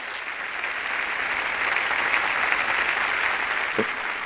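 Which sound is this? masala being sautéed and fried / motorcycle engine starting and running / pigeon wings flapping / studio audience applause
studio audience applause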